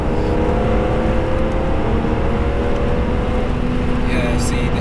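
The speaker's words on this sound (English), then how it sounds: "You can feel the power getting stronger as you start revving." A naturally aspirated BMW E46 M3 engine pulls and revs steadily, heard as a loud, continuous whirring engine drone from inside the car that holds throughout.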